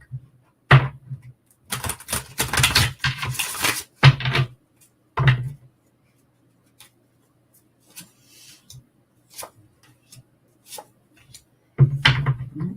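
Several short bursts of crisp tarot card riffling and flicking, separated by quiet pauses, with soft handling taps in between; close and fairly clear.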